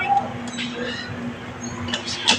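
Pigeons coo softly in a backyard loft, with low murmuring calls and a few faint chirps and rustles over a quiet background.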